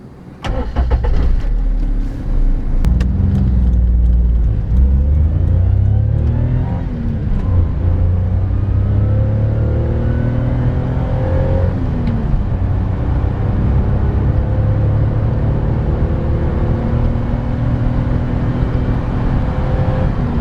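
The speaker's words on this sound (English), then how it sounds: "the 3-cylinder engine sounds fabulous and it's allied to a gearbox which makes the most ridiculous rally car screams" A 1998 Daihatsu Sirion's three-cylinder engine starts and pulls away, revving through gears with rising whines and shifts, then settles into a steady loud cabin drone while cruising.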